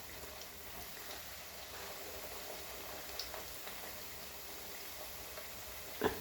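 Nippattu rice crackers frying in hot oil give a soft, continuous sizzling hiss with small bubbling pops and a slightly louder crackle near the end, with no voices.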